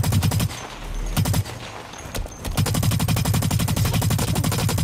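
Rapid automatic gunfire in the shooter game Blacklight: Retribution, loud close bursts of rattling shots that pause briefly twice before a long sustained stream of fire.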